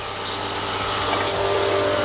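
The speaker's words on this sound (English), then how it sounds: "Okay, so rear gears, I'm going to spray away or directly down." A pressure washer sprays a mountain bike's rear gears, making a steady, close hiss of water with faint scraping texture that runs continuously throughout.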